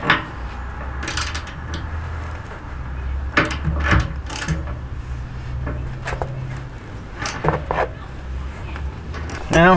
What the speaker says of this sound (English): So I'm gonna loosen both of these, this one here, and boy, that one there